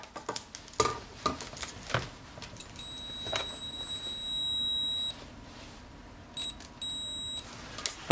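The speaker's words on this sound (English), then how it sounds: "Get yourself a meter that can check continuity or show some kind of complete circuit. This one beeps." A continuity meter's steady electronic beep holds for a couple of seconds while testing Hyundai XG350 airbag wiring, then sounds twice more in shorter bursts, over faint handling clicks and rustling.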